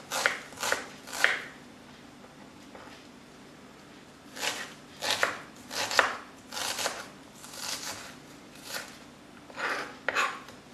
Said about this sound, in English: now I'm gonna cut onion.